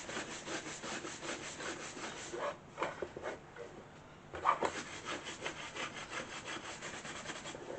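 Soft hair brush buffing wax over a wooden surface during furniture restoration, giving repeated close rhythmic brushing strokes with a brief pause partway through.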